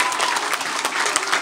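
At a school New Year's concert, the audience applauds a teacher called up on stage, producing a continuous, close, full crowd clapping sound that holds steady throughout.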